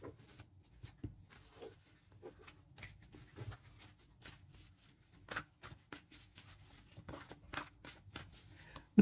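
Tarot cards are shuffled for a new draw, giving soft, irregular papery flicks and taps close by in a quiet room.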